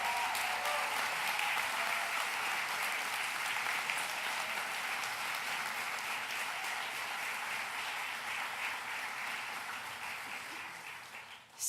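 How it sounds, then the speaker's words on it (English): Audience at a state partnership event gives students a long, steady round of applause, dense and even throughout before fading slightly at the end. "We want to applaud you."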